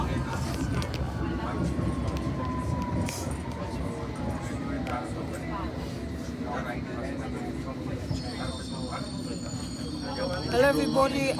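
A London Underground Hammersmith and City Line train runs between stations, with a continuous low rumble and rattle of wheels on track, plus occasional high squeals and tonal whines near the end.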